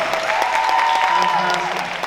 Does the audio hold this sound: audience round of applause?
yes